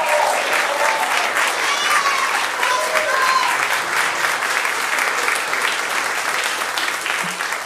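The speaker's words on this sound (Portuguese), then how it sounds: "E queria salva de palmas" Loud, steady audience applause with some crowd noise at a stand-up comedy show, continuous across the whole stretch and easing slightly at the close.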